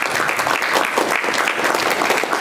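An audience at a comic-convention panel applauds steadily, a dense and continuous patter of many hands clapping close by, without a break for the whole stretch.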